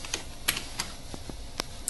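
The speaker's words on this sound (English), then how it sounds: "you have to click Ctrl plus F1 simultaneously to open this function" Several sharp, close computer keyboard key presses, scattered irregular clicks over near-silence, as Ctrl and F1 are pressed together.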